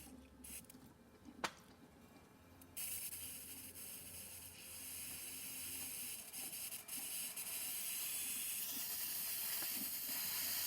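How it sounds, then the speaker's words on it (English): Steam wand of a Breville BES840 espresso machine hissing steadily, starting softly then jumping to a loud, broad continuous hiss that keeps building over several seconds, with a sharp click early on. "And now for the steam."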